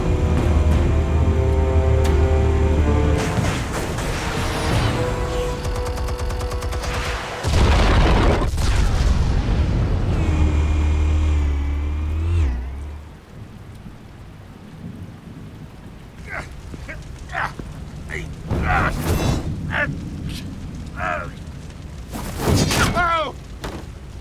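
Heavy booming blasts from explosives detonating in Batman: The Telltale Series, loud low rumbles in the first half, then fainter scattered crackles and sharp bursts later, with some game voices.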